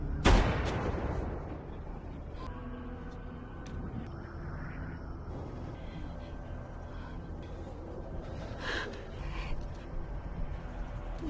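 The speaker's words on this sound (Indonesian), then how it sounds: "orang yang ditembak tadi adalah Nick yang menggunakan lempengan baja pelindung di tubuhnya" A loud, sharp burst of gunfire opens a scene from an action film about a former elite army sniper, then fades into quieter rumbling ambience with faint later impacts.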